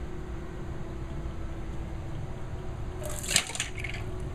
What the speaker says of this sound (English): Pour the BustLoose in.